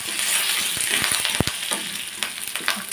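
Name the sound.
tempering fenugreek seeds, curry leaves, cumin, mustard in oil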